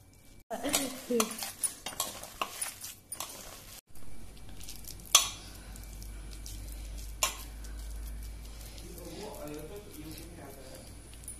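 A spoon mixes a spiced vegetable cutlet mixture of garam masala, cumin powder, coriander powder and red chilli, giving soft clinks and squishy scrapes against the bowl, with a voice talking over the first few seconds before quieter background noise.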